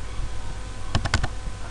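A computer keyboard in a Microsoft Excel spreadsheet session, four quick close key clicks in a tight cluster over a steady background hiss.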